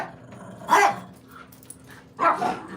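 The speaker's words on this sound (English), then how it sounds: "I got 2 dogs in the house, and one is arguing with the other." Two dogs squabble indoors, with two loud, close bursts of barking and growling separated by a short lull.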